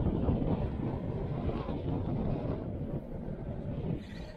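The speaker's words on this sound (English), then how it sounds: "right now it's very windy, so I'm curious to hear what the sound is like super windy" Strong wind batters the microphone of a DJI Osmo Action camera carried by a longboard rider heading into the wind, making a loud, continuous low rumble and buffeting that eases slightly toward the end. There is no talking.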